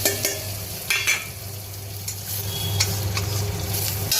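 Nigella seeds and green chili sizzle in hot oil in a pan, a steady close frying hiss with occasional stirring scrapes and clinks over a low background hum.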